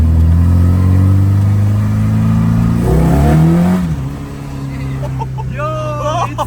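A KA-swapped Datsun 210 accelerating hard from close by, its loud engine roar holding steady before the pitch climbs and sweeps upward through the revs.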